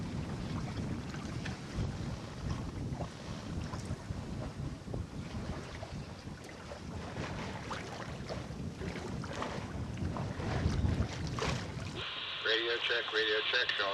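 An all-electric sailboat sails under wind alone on open water near Tampa, with continuous wind buffeting the microphone and water rushing past the hull, and a voice briefly heard near the end.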